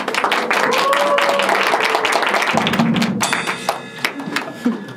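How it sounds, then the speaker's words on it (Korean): Dense crowd applause for a band's drummer at a live concert at Space Hangang, loud and continuous at first, then thinning into scattered claps and thumps. "박수."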